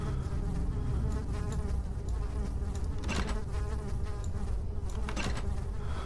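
Steady, close buzzing of flies fills a scene in the horror game Amnesia, a dense unbroken drone with a few brighter flutters as insects pass nearby.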